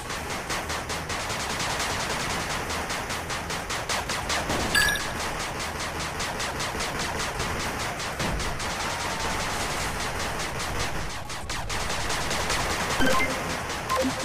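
Machine gun turret under attack in the video game 8-Bit Armies, a dense, continuous rattle of rapid gunfire with a few louder impacts, no talk.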